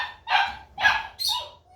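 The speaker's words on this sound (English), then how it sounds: "we're always happy when we have puppies, and then happy when they go home, because it's so noisy here" Puppies from a litter bark in three quick, sharp yips close by, with one higher-pitched bark at the end, in a noisy kennel setting.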